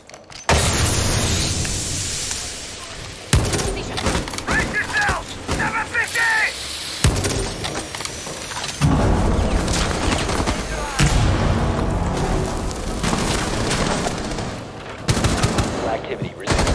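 Rapid gunfire and explosions from Hibana's gadget in the shooter Rainbow Six Siege, loud bursts of automatic fire and booming blasts crowding together with short gaps, mechanical clatter between them.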